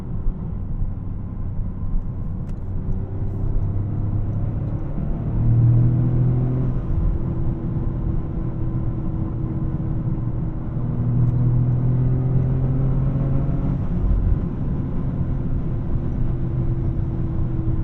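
A 2025 Toyota GR Corolla with a 1.6-liter three-cylinder engine is driven on the street. A steady low engine drone fills the cabin, with the revs rising and falling over several gear changes and several bursts of acceleration.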